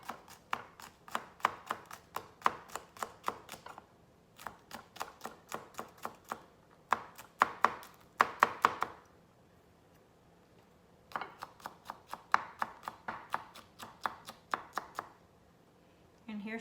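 Knife chopping a jalapeno pepper on a cutting board, rapid rhythmic knocks in three bursts separated by short pauses, close and fairly loud with no talk.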